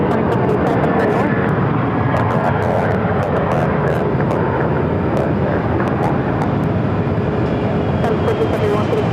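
American Airlines jet rolling for takeoff on runway 7 left at Phoenix, a loud, broad engine roar sustained throughout, with tower radio chatter heard alongside.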